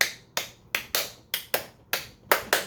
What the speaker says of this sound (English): I got so many good feedbacks about my clapping